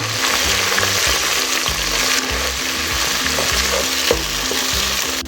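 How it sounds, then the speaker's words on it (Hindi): Onions, ginger garlic paste, tomatoes and green chillies frying in a pan for a curry, with steady loud sizzling and stirring throughout and no talk. "अब इसमें शामिल कर देंगे अदरक लहसुन का पेस्ट और साथ ही शामिल कर देंगे टमाटर और सब्ज़ मिर्च और अच्छी तरह भून लेंगे इनको"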